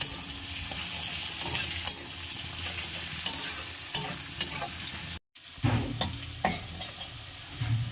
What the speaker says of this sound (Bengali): পেঁয়াজটা লাল লাল করে ভেজে নিয়ে বাকি মশলাগুলো দেবো।